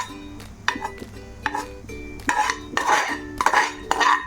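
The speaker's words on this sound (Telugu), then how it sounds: "ఒకసారి మొత్తం మిక్సీ జార్లోకి టర్న్ చేసుకోవాలి." Hot ginger chutney ingredients scraped out of a pan into a mixer jar with a metal spoon, a run of sharp clanks and scrapes against metal, close and clear, growing busier toward the end, no talking.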